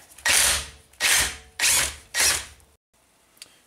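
Impact gun removing a strut nut, four loud close bursts of hammering whir with short pauses between, then quiet.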